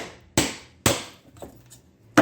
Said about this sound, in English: I have to belt them out with a hammer.